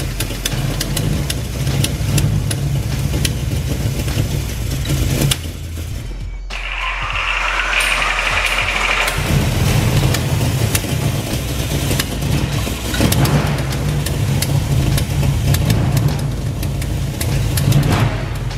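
Ford Maverick with a 302 V8 and an MSD distributor ignition, idling with exhaust leaks: a steady deep burble close by, briefly muffled partway through before the rumble returns, with no talk.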